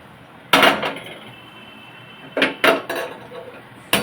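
A cooking pot being set up on the stove to boil eggs in a home kitchen, heard as a few loud, close metallic clanks and knocks separated by quiet pauses.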